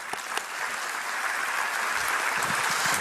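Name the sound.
audience applause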